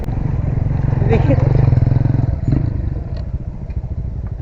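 A motorcycle engine rumbles steadily on a rough road toward Ambon Falls, with rattles and clatter over the bumps and a voice talking over the ride.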